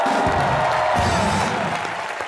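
Loud studio audience applause on a comedy talk show, dense and sustained clapping with a hint of crowd noise, tapering slightly at the end.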